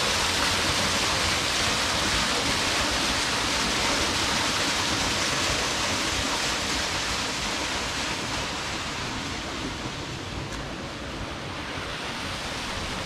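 A waterfall pours into a deep pool in a narrow, wooded canyon. Its roar is steady and broadband and holds at an even level throughout, easing slightly toward the end, with no voices.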